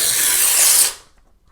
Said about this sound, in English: We can rip paper.